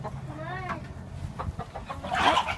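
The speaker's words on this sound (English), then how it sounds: "there's like 2 chickens that just hang out here" Chickens in a farm chicken yard cluck close by, a short burst of fowl calls over light outdoor background noise.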